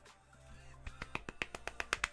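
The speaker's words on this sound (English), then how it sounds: "Golf clap." A few quiet, sparse hand claps in an otherwise calm room, spaced irregularly and then quickening slightly toward the end, like a mock golf clap.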